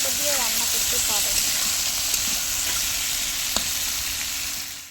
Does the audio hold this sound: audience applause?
no